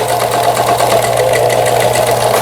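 A Lion Excel 15s sewing machine, its base plate not yet fitted, runs a triple zigzag stitch with a fast, even mechanical chatter and hum, loud and close throughout.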